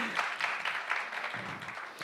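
Scattered, fairly faint clapping rises from the crowd at a conference talk, a short burst of mixed hand claps without clear speech over it.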